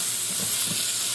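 Italian sausage sizzles and browns with onions and garlic in a pan, a steady close frying hiss with faint stirring scrapes and no talk.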